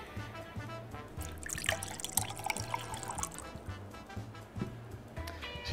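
Tap water poured into a glass while mixing a drink with white chocolate and green apple syrups, a steady trickling pour over low rhythmic background music.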